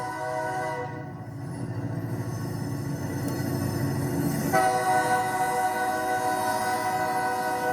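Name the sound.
train passing on the railroad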